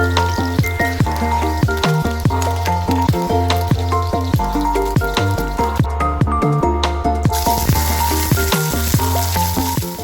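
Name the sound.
ginger garlic paste sizzling in hot oil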